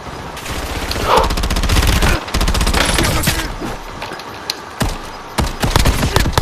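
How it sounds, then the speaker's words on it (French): Rapid automatic gunfire rattles loudly in the Warzone video game as the player comes under fire, bursts of close shots breaking off and starting again, with scattered single cracks near the end. "Qui me tire dessus?"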